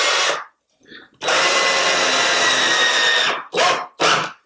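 A power drill drives a screw into willow wood with no pilot hole while building a willow chair: a brief burst, a pause, then one long steady whir of about two seconds, followed by two short final bursts, close and loud.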